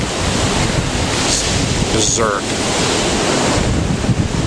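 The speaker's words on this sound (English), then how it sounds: "See the ocean there?" Ocean waves washing onto a beach on a breezy day, a steady broadband roar of surf with wind buffeting the microphone throughout, a person's voice briefly audible partway through.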